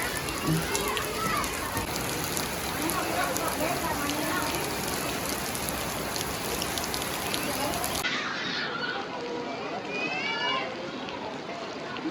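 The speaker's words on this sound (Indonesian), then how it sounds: "di sini itu hujan dan hujan cukup deras" Heavy rain pours steadily over the water play area of The Nice Playland in Karawang, a dense, continuous hiss that fills the whole clip, with faint voices in the background.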